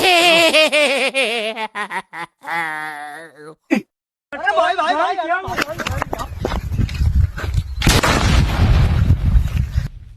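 Firecrackers burst with loud sharp bangs in a cluttered, noisy stretch at a Diwali celebration, following a stretch of laughter and voices near the mic.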